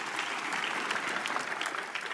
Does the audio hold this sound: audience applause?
yes